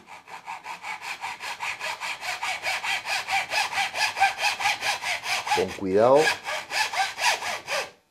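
A handsaw rasps back and forth through cane in a fast, steady rhythm, cutting notches, close up, with a brief pause and a short spoken remark partway through.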